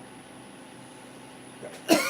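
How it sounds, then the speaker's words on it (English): A single short cough near the end, preceded by quiet background hum and a small throat sound. "Gonna cough."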